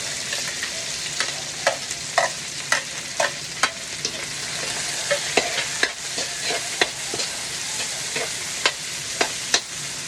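Onions and garlic sautéing in annatto oil give a constant crackling sizzle, broken by sharp, regular spatula taps and scrapes against the pan, with no voices.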